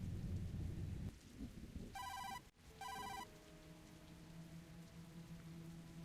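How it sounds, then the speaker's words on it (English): In the point-and-click game Tokyo Dark, a phone rings from inside a filthy paper bag: two electronic ring bursts with a short gap between them, over a steady rain-like hiss and a low hum. "The ringing is coming from inside."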